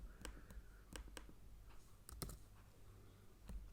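Soft, sparse keystrokes on a computer keyboard while writing Python NumPy code, irregular clicks at close range over low background hiss.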